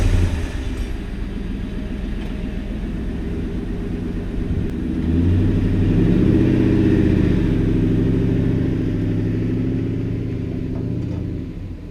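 Ford Mustang engine idling low and steady, then rising into a fuller rumble as the car is driven a short distance, close by and alone throughout.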